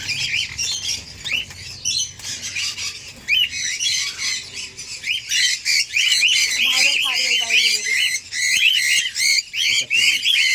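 A lutino pair of cockatiels calls close by with rapid, shrill squawks and chirps that repeat almost nonstop. Softer whistled notes sit among the calls, and faint low sounds may come from people talking.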